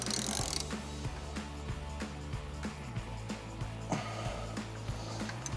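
A wrench working loose a lawn mower blade bolt, giving a run of close, regular mechanical clicks and ratcheting ticks with a few sharper knocks, no talk.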